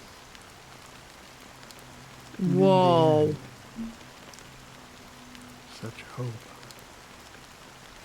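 Steady rain falls in the Honkai: Star Rail game world, a soft continuous hiss beneath a loud exclaimed voice and brief bits of other speech.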